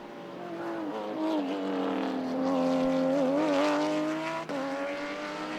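Vintage race cars, including a blue and silver Corvette, howl through the first corner at Mid-Ohio during an SVRA race, engines droning and shifting pitch as they pass at a distance, with a steady, sustained roar.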